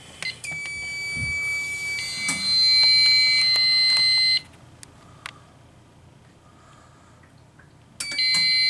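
A fire alarm system sounds as smoke remains in a smoke detector: loud, steady electronic tones with pulsing beeps, cutting off abruptly midway, then restarting after a quiet stretch.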